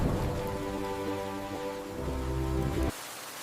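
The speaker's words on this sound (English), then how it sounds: "The rain is strong, but we must hold on." Heavy animated rainfall pours as a dense, steady wash under a sustained musical drone, then drops abruptly to a quieter patter near the end.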